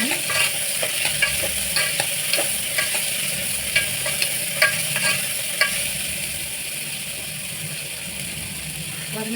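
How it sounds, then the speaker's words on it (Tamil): Onions sautéing in a pan for Chettinad mutton gravy, a steady close sizzle with repeated scraping strokes of a spoon stirring through the pan, no talking. "வெங்காயம் நல்லா வதங்கணும்"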